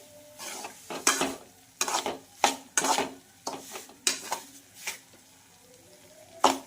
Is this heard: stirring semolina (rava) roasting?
yes